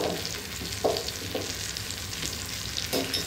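Ground cumin and coriander being stirred into a frying ghugni mixture with potatoes in a pan: a steady, soft sizzle under a few scraping stirs of a spoon, close and fairly quiet, with no voices.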